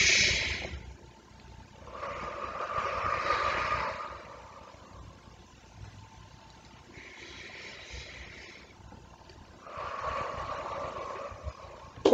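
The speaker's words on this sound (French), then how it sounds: "On inspire et on expire." Slow, deep breaths in and out during a guided sophrology relaxation session, soft airy inhales and exhales in long swells separated by quiet pauses, close and gentle with no talking.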